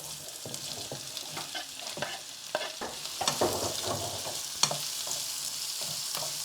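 Onions hit hot oil in a pan for a beans and potato curry, sizzling steadily while a spoon stirs and scrapes in repeated close knocks over the frying hiss.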